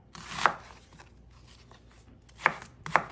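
A knife chops marinade ingredients for homemade Peking duck into small pieces on a board, giving three crisp, close cuts spaced unevenly over a quiet background.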